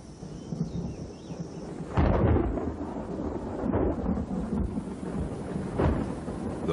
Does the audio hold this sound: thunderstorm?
yes